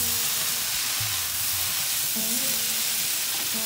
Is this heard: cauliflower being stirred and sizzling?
yes